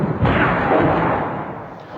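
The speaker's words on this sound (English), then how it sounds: "I mean, just every few seconds an explosion" Heavy artillery bombardment in the city of Homs, Syria: a dense, continuous rumble of blasts and booms that stays loud for the whole stretch, with no voices over it.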